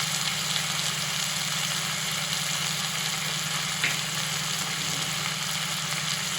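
Coriander, chili powder, curd and ginger garlic paste sauté in a pan, a steady soft sizzle over a low constant hum, even and unbroken throughout with no speech.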